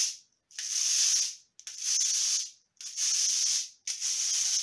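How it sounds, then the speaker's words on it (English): Plastic scraper instrument made from recycled plastic is rubbed in four even, close rasping strokes, each a bright scratchy sweep separated by short silent gaps. "Now let's look at some scrapers. There are things that we can scrape with our hands."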